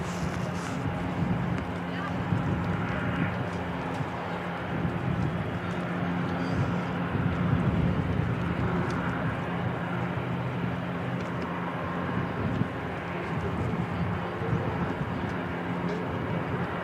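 An aircraft leaving Christchurch Airport in wet conditions as flight 692 to Blenheim gives a steady low engine hum with droning tones, while someone talks over it throughout.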